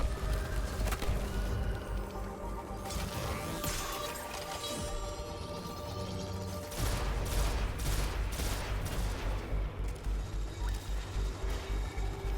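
Rifle gunfire in Destiny 2, bursts of rapid shots against a busy game soundscape, with a denser run of sharp cracks in the second half.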